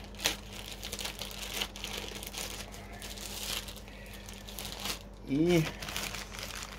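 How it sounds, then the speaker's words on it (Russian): Plastic packaging bag of a dry-charged motorcycle battery being torn open, crinkling and rustling plastic close by with a steady low hum underneath, a voice briefly heard. "Вскрываем вот эту упаковочную тару, пакет."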